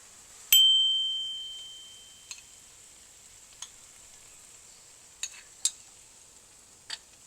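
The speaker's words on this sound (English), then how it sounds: "Now I add some salt and mix it in." Salt being stirred into tortilla cheeseburger pie filling with a spoon: a bright clink at the start with a ringing tail, then several soft, sparse scrapes and taps against the pan over a quiet hiss.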